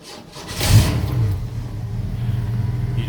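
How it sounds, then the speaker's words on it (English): A car engine cranks and catches on a cold winter start, surging briefly, then settling into a rough, uneven idle with a low rumble close by. "The oil wasn't hitting in all cylinders, in all ports of the oil, so it kind of like struggled right there."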